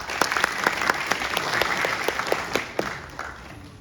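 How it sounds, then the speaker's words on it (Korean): A conference audience claps steadily to welcome a university professor at a national assembly infrastructure forum in Korea, a dense wash of many hands close and sustained, thinning toward the end. "김철영 교수님을 큰 박수로 맞으시기 바랍니다."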